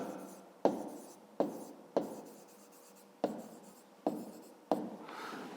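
Handwriting on paper for a 5th-grade math exercise, six crisp scratching strokes at uneven intervals, close up and alone.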